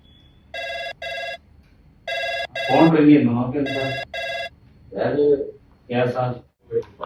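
A telephone rings in a comedy sketch about calling the police station, with three paired bursts of bright electronic double rings that alternate and overlap with loud, animated talking.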